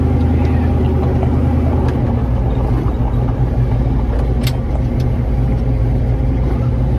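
Steady low engine rumble from a 1969 Camaro running on the road, with the air conditioning on, a continuous near drone heard from inside the car throughout.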